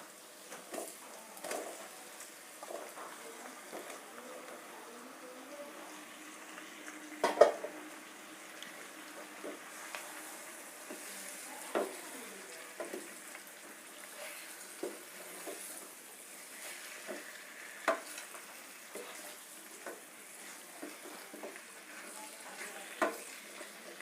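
Chicken pieces frying in a pan during chicken biryani preparation, a quiet, continuous sizzle broken by scattered clicks and scrapes of stirring, with no talking.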